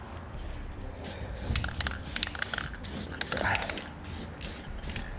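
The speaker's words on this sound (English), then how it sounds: "We'll now take some spray paint and go along the edge of our cut" Short hissing bursts of an aerosol spray paint can, several quick spurts close by amid some handling noise, spraying along the cut edge of metal during a gooseneck hitch installation.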